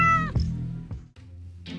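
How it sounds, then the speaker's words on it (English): A cat meows loudly and close by in a workshop where a VFR 750 motorcycle is being taken apart, giving a drawn-out meow followed by several shorter, lower cries with brief gaps between them. "it looks like the cat won't be helping us with work today"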